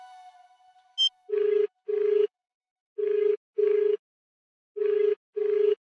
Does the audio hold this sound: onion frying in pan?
no